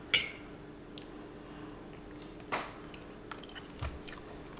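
Close, soft chewing of spicy pressure-canned Korean beef, a few faint crunchy bites and mouth sounds spread over a quiet room with a low background hum, no talking.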